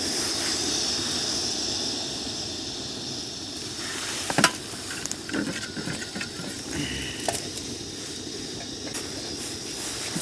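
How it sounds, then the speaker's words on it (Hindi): Momos frying in a pan at a night campsite, giving a steady broadband sizzle throughout with a few sharper crackles and scrapes in the middle, loud and close. "अब इसमें मोमो फ्राई करते हैं"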